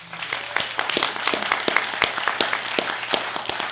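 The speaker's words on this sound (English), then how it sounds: "there's tremendous applause for your film" Sparse applause from an audience at a documentary film festival screening, with separate claps standing out over a steady hall background, fairly close and at moderate level throughout.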